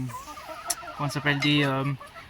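Hens cluck nearby in a short series of soft, tonal calls ending in a drawn-out cackle.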